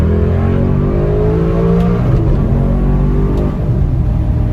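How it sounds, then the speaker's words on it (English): Maserati 4200 CambioCorsa engine revving hard at full throttle, its rising harmonic tone dropping sharply at each upshift, with two or three clear gear changes in a loud continuous run and no talk. "Listen to these upshifts."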